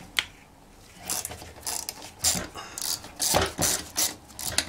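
A ratchet tool loosens Torx T25 screws on a Homelite Trim N' Edge string trimmer, making close, quiet bursts of rapid ratcheting clicks in short irregular runs.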